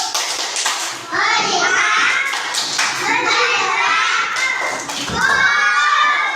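A class of children claps a rhythmic focus-clap pattern together, young voices chanting along over the brisk, even beats at close range.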